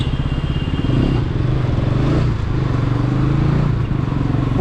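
A motorcycle threads through slow traffic from Mumbai toward Nashik, its engine droning loud and close with a steady throbbing pulse, slight rises in revs, and other vehicles rumbling around it.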